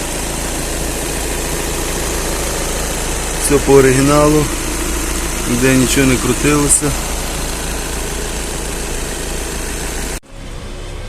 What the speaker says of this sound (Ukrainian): Так, моторчик працює дуже добре.